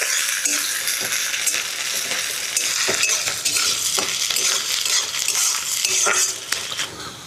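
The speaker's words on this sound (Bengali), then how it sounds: "পেঁয়াজটাও হালকা ভাজা করে নিই।" Chopped onions with garlic lightly frying in a pan, a soft continuous sizzle broken by repeated scraping and clacking stirs of a spoon against the metal, close and fairly loud.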